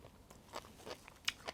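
Someone bites into katsunoko fish eggs served over a kombu seaweed salad, producing a few faint, close, crisp crunches spaced apart, with no talking.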